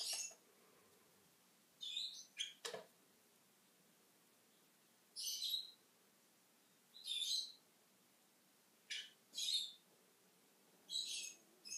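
A young pet lovebird, recently weaned from hand feeding, gives a series of sharp, high chirps in short bursts separated by pauses, close by but fairly quiet, with no talking.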